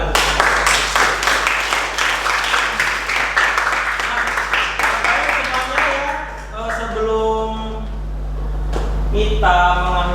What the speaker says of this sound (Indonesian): Kelas 8 kita udah tepuk tangan lagi